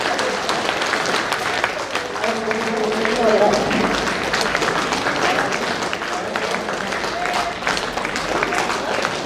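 A hall audience at a national convention gives sustained, dense applause to see off departing foreign guests, steady clapping throughout with voices mixed in.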